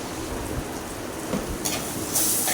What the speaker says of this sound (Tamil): தக்காளி வதங்கி வரட்டுங்க.